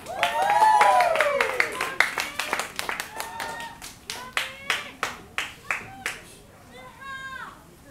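A small live-music venue crowd claps to welcome two performers, starting under excited voices and cheering, then thinning into a slower, sparser run of individual claps that fades out.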